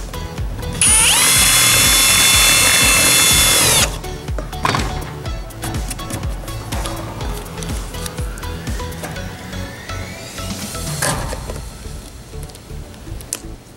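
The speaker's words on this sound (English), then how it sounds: "I'm gonna start a pilot hole right in the center" An electric drill bores a pilot hole during a car brake flush and bleed job, a loud steady whine lasting about three seconds before it stops, followed by quieter clicking and handling noises.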